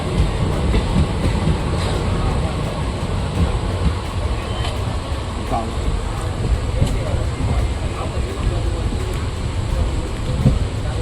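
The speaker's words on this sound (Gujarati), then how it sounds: "આપણી પણ ટ્રેન ઉપડી ગઈ છે ધીમે ધીમે." A passenger train slowly pulls away on the line out of Jetpur toward Porbandar, its steady, close, heavy rolling rumble and wheel noise filling the whole stretch without pause.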